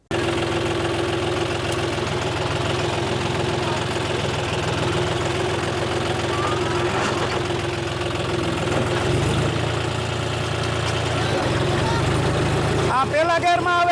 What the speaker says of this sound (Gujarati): કેટલું ટ્રેક્ટર તાણે જોઈ.